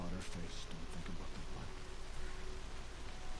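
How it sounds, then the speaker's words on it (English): Steady rain falling in the video game Horizon Zero Dawn, a dense, even hiss that stays constant throughout with no clear talk. "And it's raining as well"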